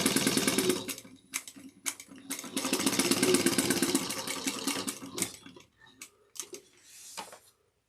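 A sewing machine stitches a woven zipper tote in steady rapid whirring runs, stopping and restarting several times, then a few short bursts near the end, close and fairly loud with no talking.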